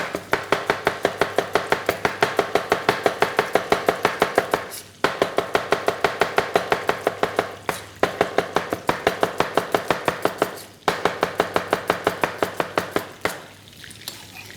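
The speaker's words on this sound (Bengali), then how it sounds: "আমরা একটু অনিয়নকে কেটে নিচ্ছি" Knife chopping onion on a board, rapid close rhythmic taps in long even bursts with brief pauses between, loud and without talk.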